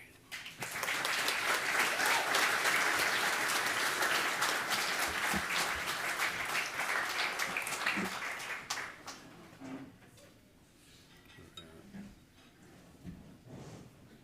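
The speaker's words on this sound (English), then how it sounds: "You can still clap, he's way back" Audience applause at an awards ceremony for a small business winner, a dense burst of clapping that holds for several seconds, then thins to scattered claps and fades into quiet room noise with faint movement.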